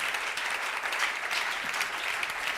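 A church congregation applauds the word of the Lord, with steady, dense clapping that stays even and sustained throughout and sounds close and full.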